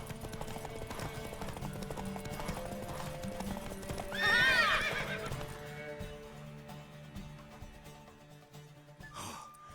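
A horse whinnies loudly in The Witcher 3 video game, a bright shrill neigh rising above a steady musical and ambient bed with faint hoofbeats, followed by a short snort near the end.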